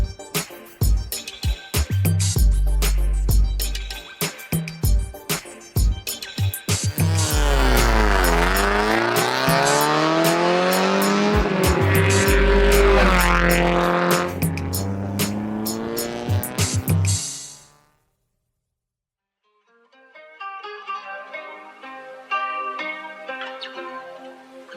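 A race car roars loudly around a track, its engine rising and falling through gear changes and repeated acceleration sweeps, then the sound cuts off abruptly and quieter, more distant engine noise follows.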